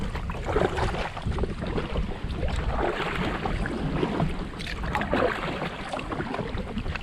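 Water laps steadily against a drop stitch kayak on Pocklington Canal, with continuous wind buffeting the microphone and no talking.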